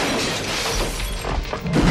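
Glass shattering in a scene from the 1988 action film Die Hard, a loud burst of breaking glass with crunching debris rising toward the end of the short stretch, with no talk over it.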